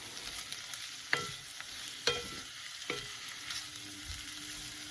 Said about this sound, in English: At the same time, mushrooms go in and we give it a stir